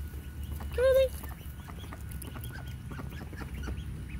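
Ducks on a backyard flock give one loud, nasal call about a second in, then quieter scattered calls over a low steady background murmur.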